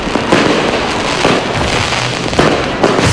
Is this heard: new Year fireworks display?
yes